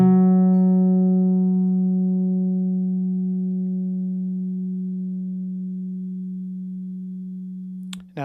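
A Chapman Stick rings out one long sustained note through a Stickup pickup with a shelving high-end roll-off, mellow and steady, fading slowly over about eight seconds before cutting off abruptly.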